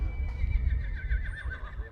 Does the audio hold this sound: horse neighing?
yes